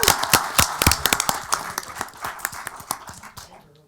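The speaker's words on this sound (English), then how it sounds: "Big round of applause for those gentlemen there." A small group at a city council meeting claps for the coaches in a brief burst of hand claps, fairly close, that tapers off within a few seconds.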